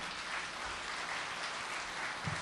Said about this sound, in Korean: 우리 모두 뜨거운 박수 한번 쳐주십시오.